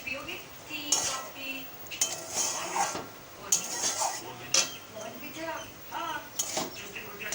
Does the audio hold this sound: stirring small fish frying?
yes